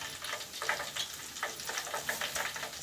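Food sizzles and fries in a pan while it is stirred until golden, a soft steady crackle broken by repeated scraping stir strokes close by, with no talk.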